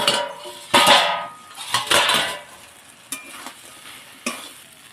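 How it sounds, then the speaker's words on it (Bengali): A metal pot lid is lifted and set down while crab cooks on the stove, giving a few sharp clanks and scrapes over a soft sizzle and stirring, with no talk. "একটা ঢাকনা খুলে দেখে নেব।"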